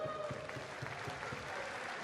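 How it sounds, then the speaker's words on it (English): Audience applause at a boxing fight night, a dense, even patter of clapping from a crowd that continues without pause for a couple of seconds. "I think them and the fighters all deserve a massive round of applause."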